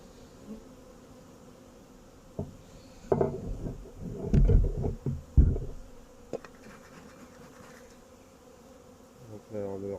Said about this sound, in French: Donc là on voit ça, c'est bourré d'abeilles.